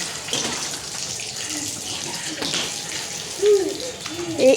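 Children splashing in bath water at home on a cold day, with gentle continuous water noise and a few louder splashes near the end; faint voices in the background.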